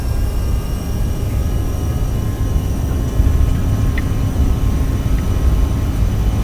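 Simulated airliner engines at takeoff power in X-Plane 12, a dense, steady roar with a constant whine running unbroken and loud throughout, with no speech.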